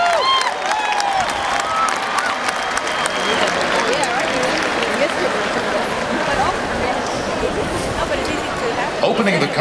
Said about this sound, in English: Yankee Stadium and New York applaud Ronan Tynan.